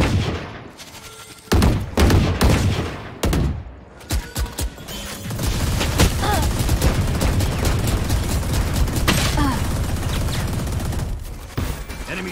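Dense gunfire from the video game Valorant, with sharp isolated shots at first that build into sustained rapid bursts and a continuous loud barrage, close and alone.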